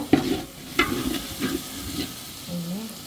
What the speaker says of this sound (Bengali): মশলাটা ভালো করে পেঁয়াজের সাথে একটু কষাই নেব